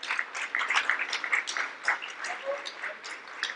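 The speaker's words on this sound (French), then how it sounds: "Sous vos applaudissements" Audience at a CFIA Morocco trophy ceremony claps for the quality, hygiene and safety award winners, with moderate, fairly steady applause heard from a distance in a hall.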